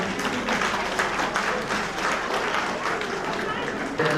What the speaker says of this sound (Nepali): म सबै साथीहरूलाई ताली बजाएर उहाँलाई बिदाई गरिदिनका निम्ति पनि म हार्दिक अनुरोध गर्न चाहन्छु